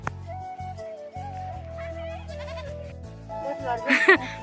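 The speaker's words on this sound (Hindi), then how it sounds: "और यहाँ पे है बकरी" A goat bleats in a series of wavering, drawn-out calls at close range, with people talking nearby and a brief burst of louder noise near the end.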